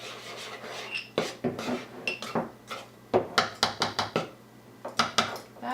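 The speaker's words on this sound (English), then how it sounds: "In there, give it a good stir." Pancake batter with a tablespoon of coconut oil is stirred in a bowl for gingerbread pancakes: repeated scraping, rasping strokes of a utensil against the bowl in an uneven rhythm, close and fairly quiet, with no talk.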